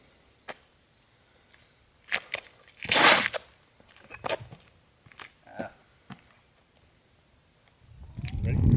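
Outdoors on a disc golf course, a faint, steady high-pitched cicada drone runs under the whole stretch, punctuated by scattered thuds, footsteps and a sharp clatter, with voices stirring near the end.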